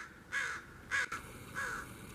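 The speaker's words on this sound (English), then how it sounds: "Oh my gosh, it's the greater blackbird!" A large black crow-like bird caws three times in harsh, evenly spaced calls, clear and fairly close against quiet background.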